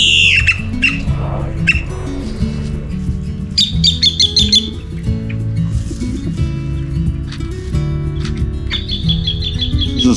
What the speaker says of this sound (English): I think this is a cowbird